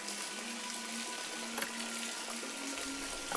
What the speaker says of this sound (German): So, Wasserfall.